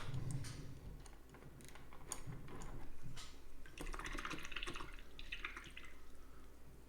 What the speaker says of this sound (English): That's my water making that noise.